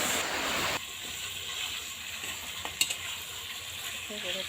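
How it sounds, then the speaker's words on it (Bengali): Mutton being fried with spices in an oily pan gives a steady, close hiss of sizzling, louder for the first moment and then settling to an even crackle, with one sharp utensil click partway through. "এটাকে ভালো করে কষিয়ে নিতে হবে।"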